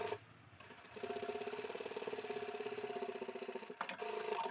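A sewing machine stitching fabric lining pieces for a small zippered coin pouch runs in a steady, fast mechanical whir of even stitch pulses for about three seconds, starting and stopping abruptly, close and clear with no talking.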